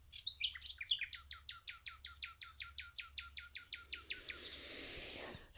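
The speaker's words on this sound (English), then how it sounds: "The nightingale is making himself heard in this quest for love." A nightingale sings a long, steady series of repeated loud chirping notes, evenly paced, followed by a rich warbling trill, heard alone and fairly close.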